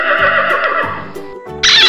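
A horse neighs loudly and close, a long whinny with wavering pitch and a sharper high squeal at the end, used as a farm sound for counting toy horses.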